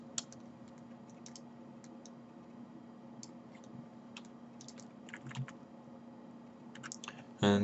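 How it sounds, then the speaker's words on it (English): Backspace key on a computer keyboard pressed several times in quick succession, crisp close clicks scattered over a steady low hum, with a louder thump right at the end. "I'm about to press the backspace on my keyboard about 5 times, 4 to 5 times"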